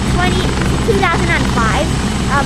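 A rescue helicopter landing at Wan Chai in Hong Kong, its steady loud rotor and engine drone running throughout while people talk over it nearby.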